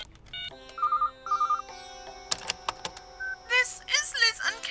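A telephone rings in short electronic double trills on a landline with an answering machine, followed by clicks, beeps and a voice as the answering machine picks up.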